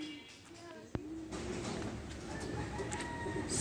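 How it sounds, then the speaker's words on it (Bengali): Pigeons coo at their nest in a continuous, close, low murmuring, with a sharp click near the start. "দুইটা কবুতর আসছে বাসায়"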